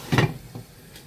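A lid goes onto a frying pan of pork and chive dumplings with one soft, close clunk, followed by a fainter tap and quiet background hiss.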